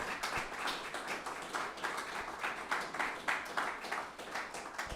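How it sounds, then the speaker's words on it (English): An audience applauds tenor George Shirley and mezzo-soprano Olivia Johnson after their appearance, a steady, dense clapping that holds evenly at moderate volume throughout. "A round of applause for George Shirley and Olivia Johnson."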